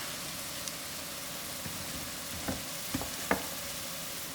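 Whipped cream being stirred into cooked flour and butter in a pan gives a steady, soft bubbling sizzle, with a few light scraping taps of the spoon toward the end and no voices.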